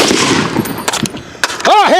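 AR-10 rifle firing 7.62x51 ammunition, several sharp, loud close shots in a rapid burst with ringing echo, ending in a harsh pulsing blast; a voice is heard faintly beneath.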